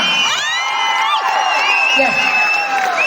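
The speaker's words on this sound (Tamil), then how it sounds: "ஒரு பெரிய கைத்தட்டு கொடுத்துடலாமா?" A crowd at a function in Chennai cheering loudly, with whoops, shrill whistles, children shouting and scattered clapping blending into one continuous roar, with voices calling out.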